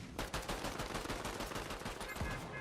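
Rapid bursts of gunfire in the video game Fortnite, aimed at distant players, crackle in a fast repeated stream that fills the whole moment, fairly quiet overall with no talking.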